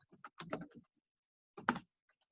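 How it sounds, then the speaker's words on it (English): Short bursts of key clicks on a computer keyboard as a search is typed, close and soft, in two clusters separated by a pause. "So here I'm just typing in social media marketing."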